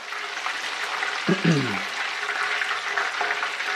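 Chicken fries in hot oil with a steady, dense sizzle throughout, broken in the middle by a short voice-like sound.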